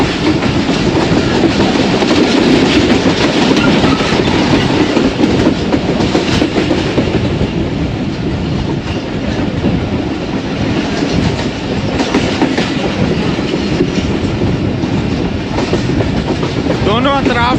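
A 101UP Subak Raftar passenger train runs steadily on rails near Dumeli station, with a loud, continuous rumble and clickety-clack of wheels throughout, close and unbroken.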